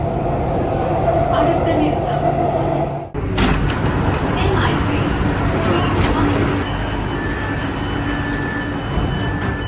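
Chennai Metro train riding along the blue line, a loud continuous rumble of the carriage in motion with a brief dip partway through, and talk heard over the running noise.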